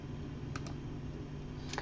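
Quiet keystrokes on a computer keyboard click in a few scattered taps over a low background hum, typed close by while no one speaks.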